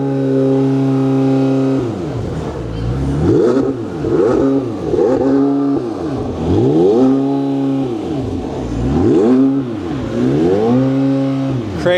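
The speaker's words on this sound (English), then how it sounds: "If you can send us off into the sunset with a couple of revs," Loud revs from a supercar at an outdoor car festival: the engine blips up and falls back repeatedly in rhythmic bursts, with the pitch swinging high and low across the whole stretch. No one talks over it.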